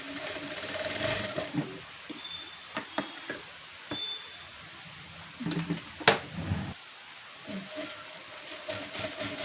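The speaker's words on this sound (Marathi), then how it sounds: "तर आता आपण टक्स मारून घेऊयात" A sewing machine stitches tucks into a half katori blouse in quiet bursts of rapid whirring, broken by short pauses, clicks and fabric handling; no talking.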